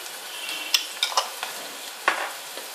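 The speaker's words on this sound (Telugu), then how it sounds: "మిరపకాయలు వేసుకొని ఒకసారి కలుపుకొని సరిపడినంత పసుపు" Light scraping and clinks of a spoon stirring chillies and turmeric in a sizzling pan, a handful of soft taps over a steady low frying hiss, close and quiet.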